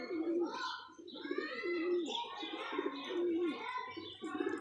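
Pigeons coo close by in repeated soft, throaty phrases, overlapping with lighter chirps and bird calls, with no talking.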